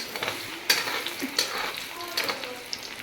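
Chopped garlic and ginger being stirred in a frying pan for red sauce pasta, with a steady close sizzle broken by a few sharp scrapes and clinks of the spoon.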